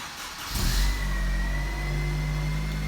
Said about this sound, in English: That is the sound of the Civic right now that you heard before.